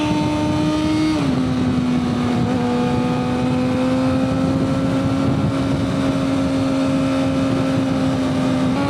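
A Suzuki GSX-R600 sport motorcycle with a 520 chain conversion is heard while being ridden, its engine holding a loud, steady tone that drops in pitch early on, under continuous wind rush.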